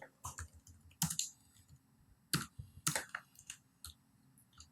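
Someone types a command into a command prompt on a computer keyboard, a few quick bursts of close key clicks separated by short pauses, with no talking.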